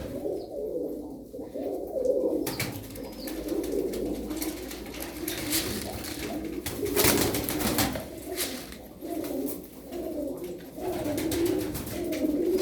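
Flock of tumbler pigeons cooing steadily in a loft, soft overlapping coos continuing throughout at moderate volume with no speech.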